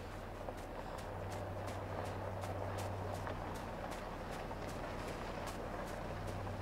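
A car approaches in the video game INSIDE: a low, steady engine hum under constant broadband noise, with faint regular ticks throughout and no voices.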